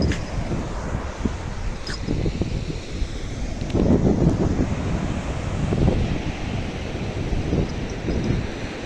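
Strong wind buffets the microphone over the steady wash of ocean surf at an empty beach, loud and continuous with swelling waves and no voices.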